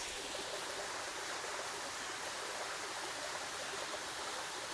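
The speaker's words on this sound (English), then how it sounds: "The water hits the stones and it collects oxygen" Water falls onto stones at the bottom of an old mill's aeration shaft in Ponce, Puerto Rico, making a constant, even, hissing rush like a small waterfall. It is faint and continuous with no voices.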